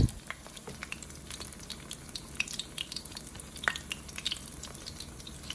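Pancake crisping in a pan at a Korean BBQ grill, a steady close sizzle with small crackles and pops, alone without talk.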